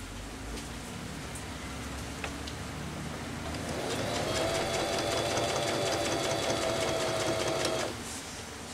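A sewing machine stitches a short section of a scrunchie, its motor rising into a steady close whir for about four seconds before stopping, over a background hum.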